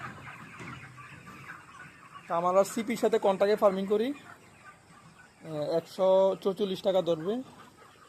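Broiler chickens on a contract poultry farm cluck and squawk in bursts close by, while someone talks over the flock.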